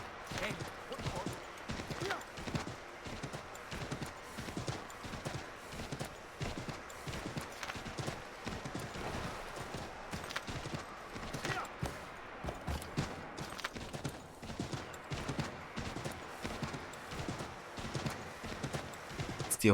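A horse gallops in Assassin's Creed III, its hooves beating a steady, rapid clip-clop rhythm that continues without pause for about twenty seconds at moderate volume, with a faint voice talking intermittently underneath.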